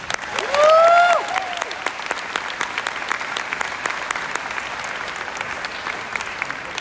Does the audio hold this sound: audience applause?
yes